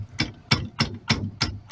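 Metal hammer blows knock a clutch pedal loose on an OBS-era Chevy Silverado pickup, 1988-1999: five sharp, evenly spaced strikes about every 0.3 seconds, close and loud with a ringing clang.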